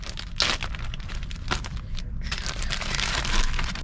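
Close crinkling and rustling of a plastic bag used to double-bag electronics, irregular crackly bursts as it is handled and folded.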